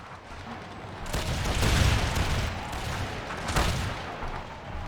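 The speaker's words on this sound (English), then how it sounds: "Ooh, that was some bloody shots of artillery." Artillery fire in the Empire II Generals multiplayer battle, a dense, continuous rumble of distant booming salvos that swells midway, with another heavy burst near the end.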